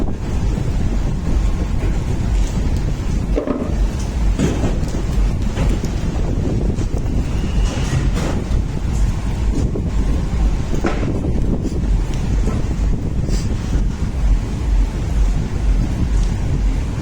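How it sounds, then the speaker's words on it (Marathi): Strong wind blowing at Juhu beach by the sea during light drizzle, a loud, constant roaring buffet across the microphone with surf-like rushing underneath and no voices. "बीच जवळ आहे समुद्र, तर जबरदस्त हवा आणि रिमझिम पाऊस चालू."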